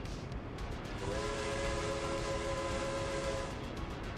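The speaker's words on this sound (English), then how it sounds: "Is that a steam train honking?" Sustained tonal whistle of a steam train horn in the city-building game Workers and Resources: Soviet Republic, sounding for a couple of seconds over steady rumbling rail and ambient background noise.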